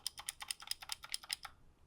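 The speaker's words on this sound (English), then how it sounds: "I lubed mine, but that only helped with a little bit of rattle and sort of stabilizer noise" Quick, close clicks from a Redragon K623 mechanical keyboard with lubed switches, a rapid burst of around a dozen keystrokes heard alone before it stops.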